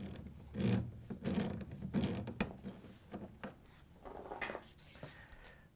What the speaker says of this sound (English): you can just unscrew it with your hand